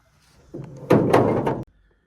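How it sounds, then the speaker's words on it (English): Hood of a fire-damaged Ford F-150 pickup being handled and latched shut: a soft thump, then a louder, sustained metallic rattle and clunk close to the microphone, ending abruptly in quiet. "let me get this thing ready latch the hood up because this thing's kind of broken"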